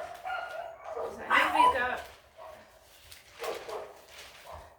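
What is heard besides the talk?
dogs barking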